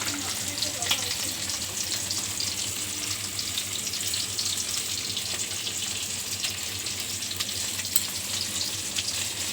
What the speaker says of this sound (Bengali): এখানে যে মাছটাও ভাজা বসিয়ে দিয়েছি কিন্তু রুই মাছ নিয়েছি